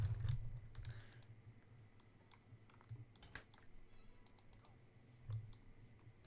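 A Sim types on a computer keyboard in The Sims 4, light irregular keystrokes and clicks in short bursts over a low background hum.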